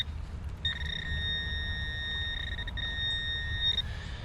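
A metal detector near a creek gives a steady electronic beep that holds for about three seconds, with a short break partway through, over quiet outdoor background.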